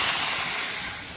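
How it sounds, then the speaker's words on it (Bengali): Water poured into a potato curry (aloo dum) in a hot pan hisses and steams loudly and continuously, fading slightly toward the end. "এখন আমি তরকারির ভিতরে একটু জল দিয়ে দিলাম"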